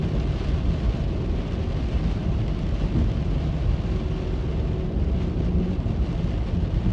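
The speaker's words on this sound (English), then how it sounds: "Big crack of thunder." Thunder from a night storm while driving from western Nebraska into central Iowa: a loud, steady low rumble that fills the whole stretch with broadband roar and no clear single crack.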